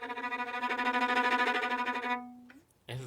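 Strings from Vivaldi's Four Seasons play rapid repeated notes evoking thunder, a dense shimmering tremolo held for about two seconds before fading, then a brief new bowed entry, fairly quiet and without talk.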